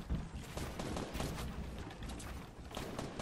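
Continuous gunfire in a shooter video game: dense, loud, rapid shots layered over one another, with no pause for the whole stretch.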